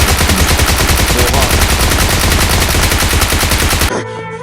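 Sustained Thompson submachine gun fire in PUBG Mobile's Metro Royale mode, a loud, dense automatic burst of rapid shots lasting about four seconds before cutting off abruptly into quiet.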